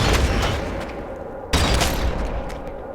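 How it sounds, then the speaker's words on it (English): A grenade goes off in Warhammer 40k: Deathwatch, fighting a Tyranid invasion: a loud, close boom with a crackling tail lands at the midpoint over continuous dense battle noise and gunfire. "This is when we're going to use a grenade."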